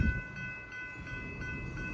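Metro-North commuter train at Grove Street, heard as a steady low rumble with high tonal whine from the rail cars, moderately loud and continuous with no voices.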